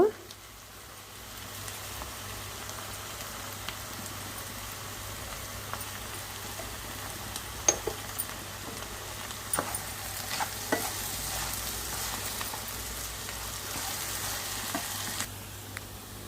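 Potatoes fry in a pan with a steady, moderately loud sizzle and a crackle like light rain. Occasional stirring clicks and scrapes cut through it, and the sound grows somewhat fuller toward the end.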